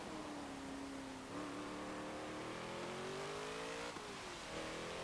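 A 2017 Ford Focus RS in Forza Motorsport 7 drives race laps, its engine droning loudly and continuously, pitch climbing with acceleration and dropping at gear shifts and braking points.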